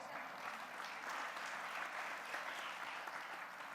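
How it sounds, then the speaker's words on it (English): Applause from an audience at a civic lecture event, a steady, dense wash of clapping heard from some distance, fairly quiet and unbroken throughout with no voices over it. "Give yourselves a round of applause."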